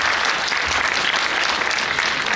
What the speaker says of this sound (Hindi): जो भी हुआ उसके लिए एक बार जोरदार ताली बजाइए